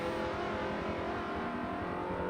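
A Subaru race car in a racing video game hums along at a steady pitch, its engine faint and distant with a low rhythmic growl and no other sound over it.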